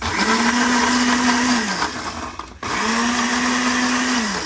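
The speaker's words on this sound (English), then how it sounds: "I'm gonna go ahead and blend that so that I can add it to the shrimp already." A blender blending salsa whirs loudly and steadily, cuts out briefly, then starts up again with the same high motor whine.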